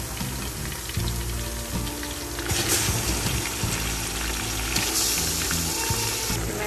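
Mutton pieces frying in a pan at home, a loud, continuous sizzle that swells and crackles more intensely partway through, with faint stirring knocks underneath and no talking.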